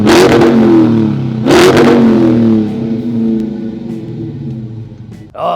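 A 2023 Chrysler 300C engine revs loudly twice through its large dual exhaust pipes, a deep throaty roar that settles into a rumbling idle, close up.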